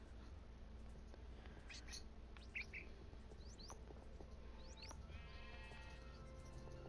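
Sheep bleat in the Minecraft video game, short faint cries scattered across a steady hiss of ambient noise, with bird chirps mixed in and no voices.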